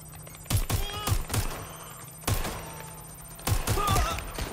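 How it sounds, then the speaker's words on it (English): Gunshots in the Watch Dogs Legion video game, heard as several sharp bursts of two or three quick shots each, spread across a few seconds over a steady background hum. "Shots fired"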